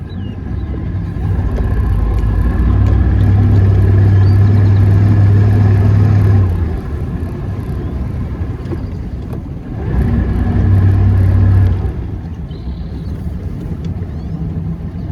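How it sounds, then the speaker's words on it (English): Outboard motor running on a small fishing boat on Lake Calaveras, a steady loud close droning rumble that swells and eases in two stretches with water and wind noise beneath, and no talk. "And we are afloat with a running motor."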